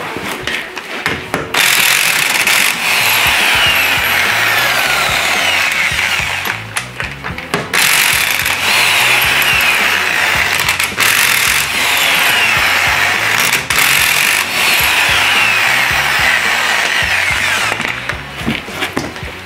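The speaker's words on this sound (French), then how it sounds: "tu te casses le poignet avec la déboulonneuse là" Impact wrench loosening wheel nuts on an Aixam Crossover microcar during drum brake work, delivering loud repeated hammering bursts in quick rhythmic runs with short pauses between them, close up and dominating the scene.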